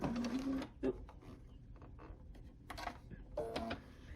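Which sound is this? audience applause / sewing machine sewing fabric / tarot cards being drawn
sewing machine sewing fabric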